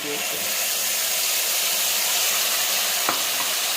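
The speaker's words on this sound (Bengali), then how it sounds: "এবার একটু ভালো করে কষিয়ে নেব, হালকা একটু জল দেবো।" Cashew paste with ground cumin and ginger stir-fried in a little oil in a pan gives a steady, close sizzling hiss throughout, with one brief knock near the end.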